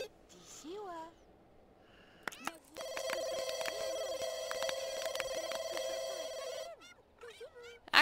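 A telephone rings in The Sims 2, a steady electronic ringing tone lasting several seconds between bursts of the game's simulated chatter.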